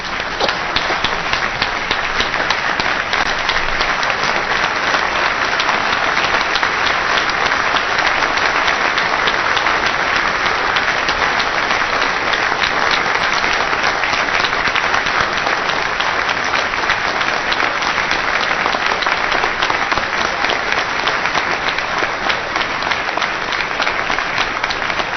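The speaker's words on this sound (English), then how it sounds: "So please give us a round of applause and warm welcome" An indoor audience of lawyers applauds steadily to welcome the mayor of Chicago at a bar association event, with dense, continuous clapping that stays loud and even for the whole stretch and no talking over it.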